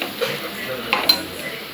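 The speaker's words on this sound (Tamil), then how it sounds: "தயிர் போட்டு மிக்ஸ் பண்ணிவிட்டு" Yogurt being stirred into a masala in a cooking pot, with soft scraping and clinking of a spoon against metal and a few sharper knocks, close and moderately loud.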